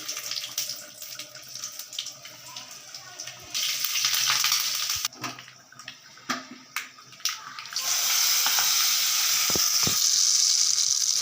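Cumin, mustard seeds and chillies sizzle in hot oil for chutney, a steady close frying hiss that swells louder midway, with a few sharp pops and clatters of a spoon or pan in between.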